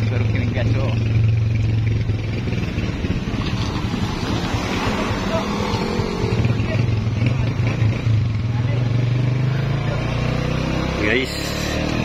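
Motorcycle engine droning steadily throughout, with a low hum that shifts pitch around the middle and end, wrapped in heavy wind buffeting from riding; a voice talks over it.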